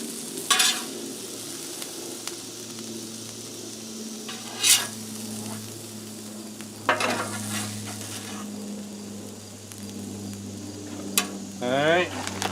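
Vegetables cooking for a chicken quesadilla on a Blackstone griddle give a steady, faint sizzle with a low hum beneath it and occasional spatula scrapes and taps.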